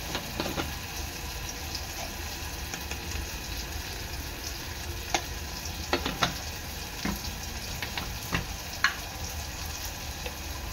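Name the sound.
Agri Koli masala and turmeric frying in oil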